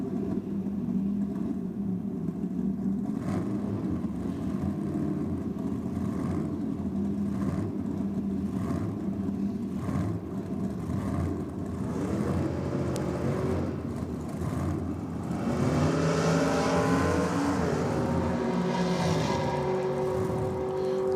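Holden Torana drag car on a solo straight-line run at Brookvale, a steady mid-pitched engine drone that climbs into a louder rising rev near the end.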